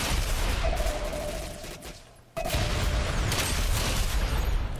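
Dense, sustained gunfire and explosive booms from a multiplayer firefight in Ghost Recon Phantoms roar loudly, dropping briefly near the middle before surging back as an almost continuous barrage.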